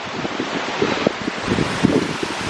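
A big waterfall in a rocky river in New Zealand pours as a steady, dense broadband rush, close and continuous, with some gusty wind buffeting on top.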